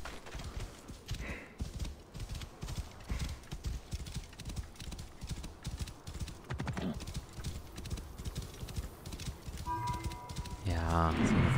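Horse hooves clip-clopping in the video game Assassin's Creed Origins, a steady trotting rhythm under someone talking, ending in a loud, close whinny in the last second.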